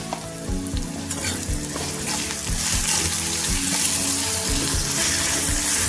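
Potatoes frying with salt in a pan make a steady, close sizzle for the whole stretch, with the occasional stir and scrape of a utensil. It grows slightly louder partway through, and nobody speaks.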